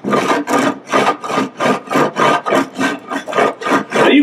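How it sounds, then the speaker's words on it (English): A hammer's notch is drawn repeatedly along the rough edge of pallet wood to strip off fuzz, giving about a dozen rhythmic, close, raspy scraping strokes in steady succession with no talking. "put that notch of the edge of the wood right into that notch and draw it across"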